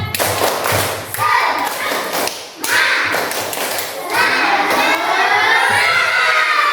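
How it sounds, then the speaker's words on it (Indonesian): A classroom of children loudly chant the tepuk semangat clapping routine, with rhythmic claps and thumps under shouted voices that keep going throughout, near and energetic. "Ulangi lagi tepuk semangat."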